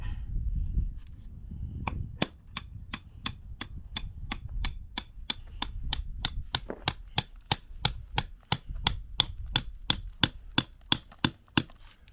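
Rebar being driven into the ground beside a retaining wall foundation for a shipping container home, struck by a hammer in a long run of sharp, ringing metallic blows that start slow and quicken into a steady, close, loud rhythm.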